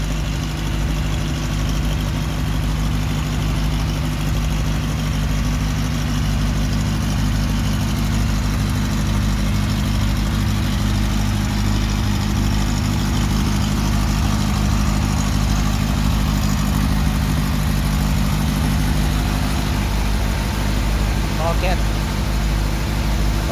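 A modified engine running a generator to supply electricity for a farm idles at a constant, loud, low rumbling drone with a steady pulse for the whole stretch, while a voice talks over it.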